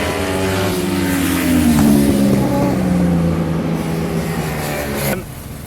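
An Aprilia RS660 motorcycle races at Cadwell Park with a loud, close engine whine that rises and falls in pitch as it passes, holding strong for about five seconds before suddenly dropping away.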